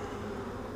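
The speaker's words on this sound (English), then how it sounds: "look at all the bees" Honey bees on a hive frame give off a steady, soft, close buzz that holds constant through a brief moment.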